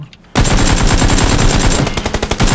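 Automatic gunfire aimed at a buggy in Battlegrounds, a sudden dense burst of rapid shots that runs loud and continuous for about two seconds before breaking into separate closely spaced bursts.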